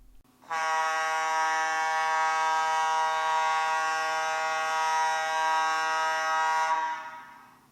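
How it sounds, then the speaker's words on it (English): One long, steady blast of air horns sounds the all-clear at a gas plant. The harmonic tone holds at an even level for about six seconds, then cuts off. "the all clear will be sounded, which is one long blast of the air horns"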